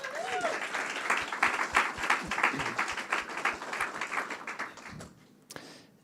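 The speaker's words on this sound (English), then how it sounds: "join me in just giving them a big round of applause right now" A live audience applauds a lab team at a company progress update, with steady clapping from a moderately sized crowd that builds, holds for several seconds, then thins out toward the end.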